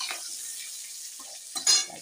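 Panch phoron spices and green chillies fry in hot oil left over from frying fish, giving a brief, close bright sizzle with a small crackling burst near the end.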